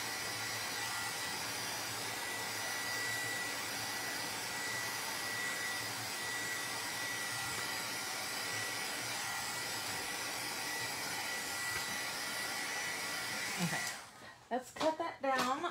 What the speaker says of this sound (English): Let's heat set that.